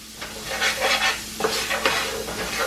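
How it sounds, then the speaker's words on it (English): Onions and peppers sautéing in a pan, a close hissing sizzle that swells in bursts as they are stirred, with a couple of spoon knocks against the pan. "you're going to add your onions and peppers now. And saute"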